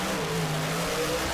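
A Chevrolet Malibu drag car idles and revs on a hot drag strip on radial tires, a steady mid-pitched engine drone heard at a distance, the throttle feathered on and off, with no voices.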